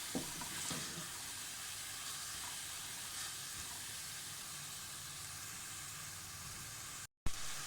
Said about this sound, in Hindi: पाँच मिनट दाल को फ्राई करके अब इसमें 3 कप पानी डाल दें।